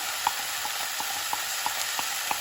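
Pav bhaji vegetables frying with salt in a pan give a steady, soft sizzling hiss, with a spatula tapping against the pan about every third of a second.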